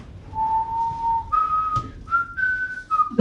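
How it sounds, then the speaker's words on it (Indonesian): A person whistles a simple tune up close, a few clear sustained notes stepping upward with short breaks between them. "Kenapa kamu bersiul kalau tidak ada kerjaan?"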